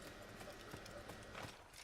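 Faint horse hooves clip-clop in a quick, uneven rhythm over a low background hum in the video game Assassin's Creed.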